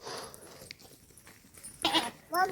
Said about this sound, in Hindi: ये बकरियां जा रही हैं जंगल घास चरने के लिए।